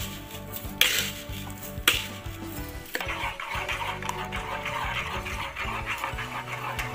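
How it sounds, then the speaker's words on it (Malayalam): Sugar being stirred into a pudding mixture in a pot, with two sharp utensil knocks against the pot early on, then continuous scraping and swirling that carries on steadily at close range. "പഞ്ചസാര നന്നായി മെൽട്ട് ആകുന്നത് വരെ നമുക്കിങ്ങനെ ഇളക്കി കൊടുക്കാം"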